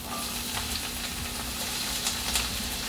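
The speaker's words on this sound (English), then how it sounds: "But saute up the veggies." Green peppers and onions sautéing in a pan, a steady broadband sizzle and crackle with soft stirring scrapes, continuous and close throughout.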